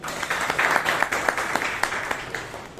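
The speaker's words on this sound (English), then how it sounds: "Give one more round of applause for our essay for that evening Toastmaster Veeresh" An audience at a Toastmasters club meeting claps in a moderate, fairly sparse round of applause, with a few sharper individual claps standing out from the steady patter.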